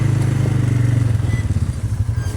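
An ATV engine chugs loudly and close while plowing snow, a steady pulsing low rumble that loosens slightly toward the end.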